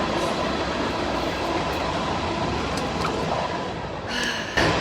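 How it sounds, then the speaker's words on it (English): A train rolls past outside, a loud, steady broadband rumble of wheels and rail cars filling the whole stretch, with a brief brighter squeal and clatter near the end. "I thought I had figured out the train schedule, but I guess I didn't, because that was early."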